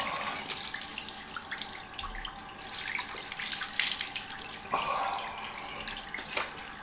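A bathroom tap runs steadily for a cold rinse after a wet shave, a continuous splashing hiss of water into a sink with small surges and drips, close and alone.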